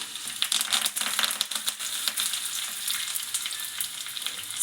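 Curry leaves crackle and sizzle in hot tempering oil with dried red chili and golden-fried aromatics, a dense, steady frying hiss with sharp spitting pops throughout, close and continuous.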